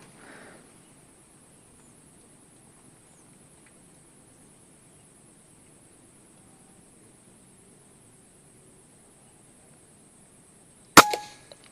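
A B-ZAD Klein VR-1 air rifle fires a single sharp, close shot near the end after a long, quiet stretch with faint background hiss.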